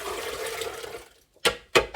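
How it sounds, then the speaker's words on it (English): Water pours from a container into a blender jar while making almond milk, a steady close splashing rush for about a second, then a pause and a few short bursts of pouring or sloshing. "I'm going to take the remainder of my 4 cups of water,"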